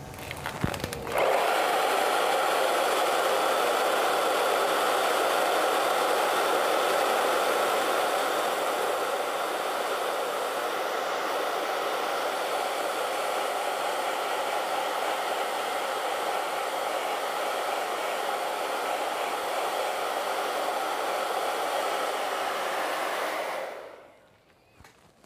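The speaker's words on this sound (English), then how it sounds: "we're going to dry that" A hair dryer blows steadily on acrylic paint, a loud, even rushing whoosh that switches on abruptly, holds for over twenty seconds with a slight drop in level, then cuts off at the end.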